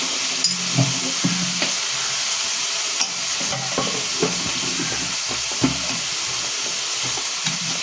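Vegetables fry in a wok with a constant loud sizzle, and a spatula stirs and scrapes the metal in irregular knocks close by.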